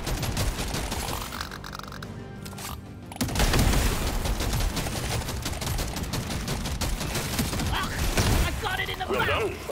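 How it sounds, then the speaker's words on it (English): Gunfire blasts at aliens in a video game, dense repeated shots layered with booms and game effects throughout, with a voice calling out over the shooting. "Shotgun."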